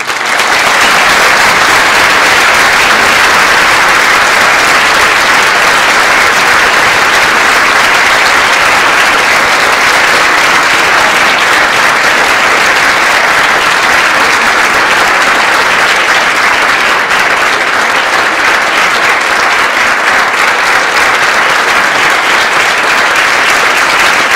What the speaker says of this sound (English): So please now join me in applauding and welcoming to the podium our own national queer treasure, Martin Duberman.